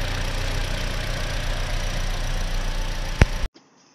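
A Toyota RAV4 engine idles with a misfire from a faulty injector on cylinder number 3, a steady close rumble with an uneven pulse, ending in a sharp click before cutting off abruptly.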